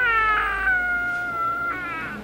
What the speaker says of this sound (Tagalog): Parang may baby na umiiyak.